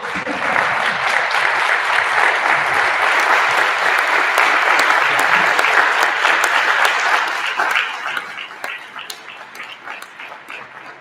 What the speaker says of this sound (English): Could you please stand on your feet and give Miss Mary Jones Walser a standing ovation?